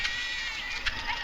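Sheep bleat in a rural Indian village setting, a thin, wavering cry that holds steady for about a second with a brief louder pulse near the end, heard fairly faintly against low background noise.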